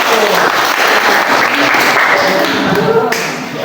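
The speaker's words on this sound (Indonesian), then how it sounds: "Sekali lagi kita tepuk tangan untuk kelompok" A classroom full of students clapping for a student group after its presentation, loud, dense and continuous applause that tapers slightly at the end.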